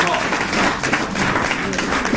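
A church congregation breaks into loud, close applause mixed with excited voices and cheering, a dense, busy burst lasting a couple of seconds.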